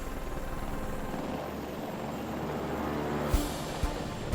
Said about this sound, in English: The combat-proven Apache helicopter is the U.S. Army's most lethal aircraft.